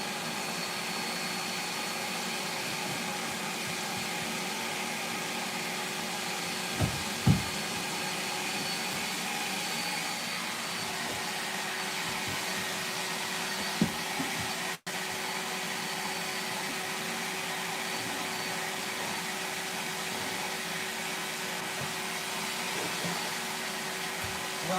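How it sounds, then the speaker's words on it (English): A carpet seam steamer blows hot air during a carpet installation, a steady loud whooshing hiss like a vacuum or hair dryer, continuous throughout with a couple of faint knocks. "You guys are hearing the steamer down, suck all that hot air, and go there and dry that seam."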